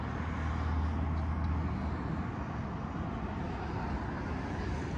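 Steady, dense road traffic on Transit Road, a busy main thoroughfare in Buffalo, with a continuous broadband roar of passing vehicles and low rumble, loud and unbroken throughout.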